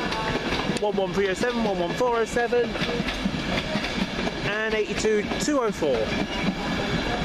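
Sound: train coming into Peterborough station

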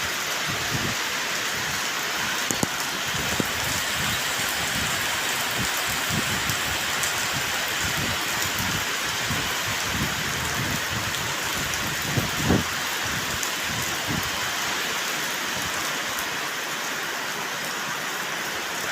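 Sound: heavy rain falling during a storm

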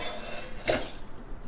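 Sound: spoon scraping seed butter off into a blender

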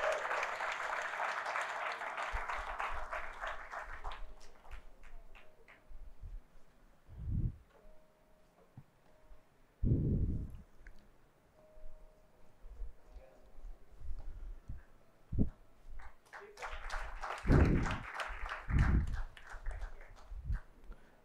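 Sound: audience applause for a UPSC topper

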